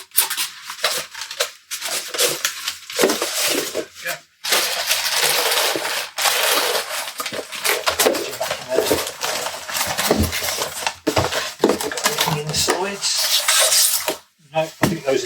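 Packaging padding handled while unboxing an ICOM IC-7760SE Signature Edition radio gives steady crinkling, rubbing and scraping close by, with brief pauses.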